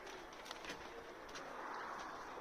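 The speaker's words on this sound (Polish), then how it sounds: "Tych jeszcze nie puszczałem gołębi." Young pigeons coo softly inside a loft, low rounded calls repeating faintly against quiet background noise.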